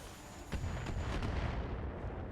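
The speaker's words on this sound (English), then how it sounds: "that's some mortar coming in. It's going to do some damage to us" Incoming mortar shells land in the mech combat game RogueTech, a deep rumbling barrage with a few sharp thuds near the start, then a sustained heavy boom and roar that slowly fades, with no talk.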